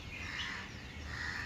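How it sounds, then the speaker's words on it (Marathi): A crow caws once, a faint, harsh call drawn out against a steady outdoor background in the morning. "फेमस कावळ्याचा आवाज"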